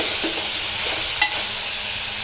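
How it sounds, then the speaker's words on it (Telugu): Beetroot pieces roast in a pan for a spicy beetroot palya, giving a steady close sizzle with a soft stirring scrape partway through, and no voices. "ఈ విధంగా బీట్రూట్ పీసెస్ అందులో వేసి ఇలా రోస్ట్ చేద్దాం"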